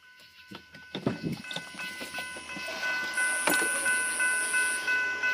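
Freight train KNWA 380 approaching a newly signaled railroad crossing at night, rumbling closer and louder with rail clatter, while a long horn blast sounds from mid-distance.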